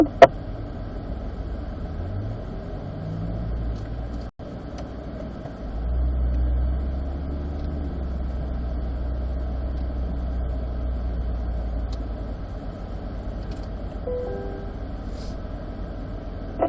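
Car on an autocross course, its engine a low steady rumble that swells and dips over the run, heard from a distance and with no voices.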